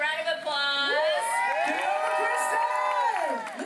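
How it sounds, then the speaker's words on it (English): A crowd at a tattoo convention awards event cheers and whoops for a first-place color tattoo winner, with excited shouts and voices rising over one another close by. "Everybody give her a round of applause."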